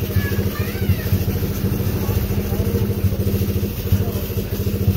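A motorcycle engine idles with a steady, rapid low throb at a car wash below, close and continuous, with a faint mechanical clatter over the running motor.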